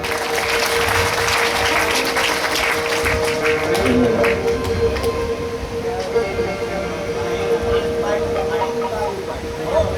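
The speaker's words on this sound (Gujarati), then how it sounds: "તાળીઓથી વધાવો." An audience claps throughout at a Hanuman Katha religious discourse, a dense, loud, continuous patter of hands that eases slightly toward the end.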